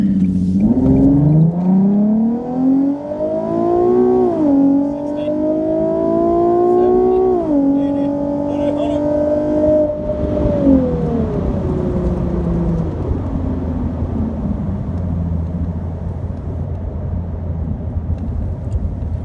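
A Nissan 370Z fitted with a cold air intake accelerates hard, its loud engine note climbing steeply through the gears with brief dips at each shift before easing off into a lower, steady drone.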